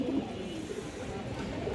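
Pigeons, including pure Maxi Gribas birds with stone eyes, coo softly in a loft, their low calls steady and faint under a constant background hum.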